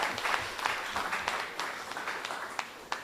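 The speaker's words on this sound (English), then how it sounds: "Give him another round of applause" Audience applause rises at a primary school Kweyol spelling bee, a soft, fairly distant wash of many hands clapping with a few sharper claps standing out, no talk over it.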